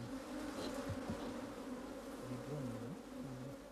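A mixed colony of yellow and black honey bees buzzes around an opened hive, a dense, steady drone with individual bees droning nearer now and then, no voices.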